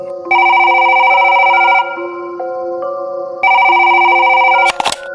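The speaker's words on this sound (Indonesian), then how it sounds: "saat telepon ruang administrasi berdering" An electronic telephone ringtone in a hospital administration office plays a repeating melodic pattern in two loud bursts, then breaks off abruptly with a clunk as it is picked up.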